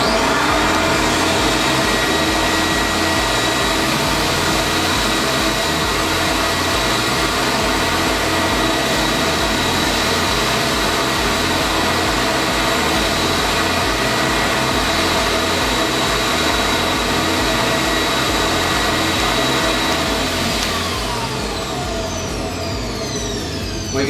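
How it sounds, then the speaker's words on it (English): A Kanga 600 carpet cleaning machine runs its vacuum motors in a loud, steady broadband whine and roar, constant through the whole stretch, with the tone shifting slightly near the end as a motor winds down. "We're going to switch those vacuum motors off one at a time as well."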